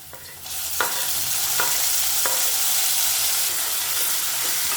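Small-cut tomatoes sautéing with onion in a pan for a Tirunelveli-style Pongal jackfruit kulambu, a close, continuous sizzle broken by several sharp spoon scrapes against the pan.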